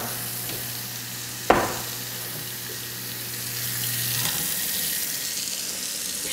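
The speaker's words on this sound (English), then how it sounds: "First thing you do is you turn on the water, turn on the garbage disposal" Water runs steadily from a kitchen sink tap with a garbage disposal, a broad hiss after a sharp click, with a low hum that drops out partway through; no speech.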